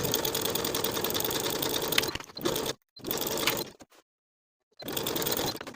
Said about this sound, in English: We're going to sew straight down from the top with a 1/2 inch seam allowance